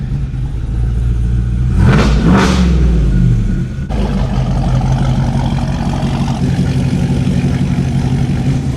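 A Chevrolet Silverado fitted with a Whipple supercharger revs hard, the engine pitch sweeping up and falling back in a loud surge before settling into a deep, rumbling idle, close by with no talking.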